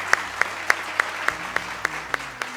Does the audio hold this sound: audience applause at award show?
yes